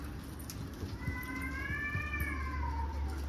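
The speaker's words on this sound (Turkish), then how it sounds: "Kediler kavga ediyor." Two cats fight near a pigeon coop, with a drawn-out rising and falling caterwaul over low background hum and faint rustling.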